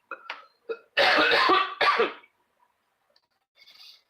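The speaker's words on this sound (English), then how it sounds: "Just got done with a bad coughing fit." A person coughs hard in a short fit, with a couple of small throat sounds followed by two loud, close hacking bursts and then quiet breathing.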